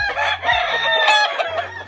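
Backyard chickens kept as a hobby cluck loudly and close by in a rapid series of squawking calls, with short pauses between bursts.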